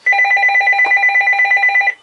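A telephone rings loudly and close by in a fast, steady warbling trill that lasts about two seconds without pause, heard alone with no voices.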